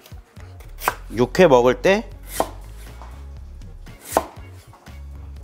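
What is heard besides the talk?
knife slicing squid on cutting board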